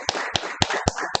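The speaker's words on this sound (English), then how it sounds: "Start with a clap." Five sharp hand claps ring out at an even pace in a room during a Toastmasters club meeting, each one crisp and close, with nothing else heard between them.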